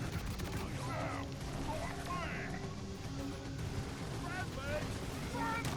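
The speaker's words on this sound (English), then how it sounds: "I assume that guy was shooting a bug that was close to me." Gunfire in a video game battle against bugs: rapid bursts of shots over a dense, rumbling background of combat noise, fairly distant and low in level.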